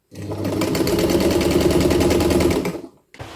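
An antique Jones Model C hand-crank sewing machine runs in a rapid, steady mechanical clatter for a couple of seconds, loud and close, then stops abruptly.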